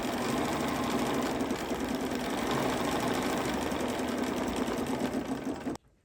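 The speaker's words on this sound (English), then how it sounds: "So now we're stitching down our placement stitch for our hat brim." An embroidery machine stitches a placement line for a hat brim, its rapid needle hammering in a steady, loud mechanical chatter that cuts off abruptly at the end.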